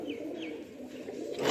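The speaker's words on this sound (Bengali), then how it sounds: "একটু কাছে গেলে গোলা পায়রা সব উড়ে চলে যাবে।" Rock pigeons coo in low rolling murmurs close by, with a couple of brighter calls and a slight rise in level at the end, no voices present.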